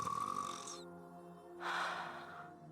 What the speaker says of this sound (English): They actually made the actress snore.